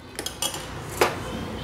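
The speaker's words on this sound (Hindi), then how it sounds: "ये करीब मैंने 100 ग्राम शक्कर इसमें डाल दी है।" Metal spoon clinking against a steel pot while sugar is stirred into boiling milk for homemade condensed milk, a few quick clinks and scrapes close by with no talk.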